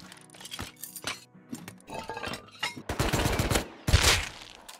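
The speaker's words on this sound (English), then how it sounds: "I heard some gunshots" Gunfire in the survival video game Rust crackles in several bursts, sharp rapid shots at middle distance that build up in the latter half, with no talking.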